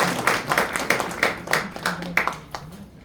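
Members at an elders' association executive committee meeting clap for their chairman, with loose uneven hand claps heard fairly close, mixed with voices talking over the clapping and trailing off toward the end.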